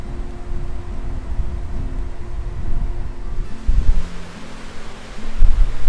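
Gusty wind buffeting the microphone outdoors at an RV resort in San Benito, Texas, a low rumbling roar that swells and drops in irregular surges.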